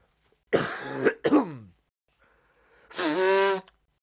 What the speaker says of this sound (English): So you'll hear me coughing still, literally right now.